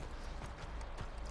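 Horse hooves clip-clop in the Red Dead Redemption 2 video game, a quick, steady run of soft thuds over a dense, constant background wash, with no talk.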